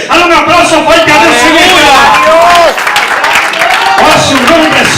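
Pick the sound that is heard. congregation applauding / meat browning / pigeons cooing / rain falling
congregation applauding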